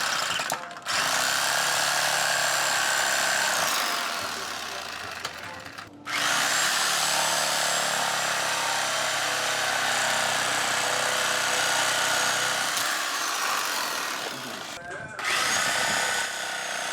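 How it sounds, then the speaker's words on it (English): A power tool grinds out metal bushing sleeves from an S13 subframe, a harsh, loud, close whine running in long stretches broken by brief stops. "I'm going to go ahead and cut out all the metal sleeves in here"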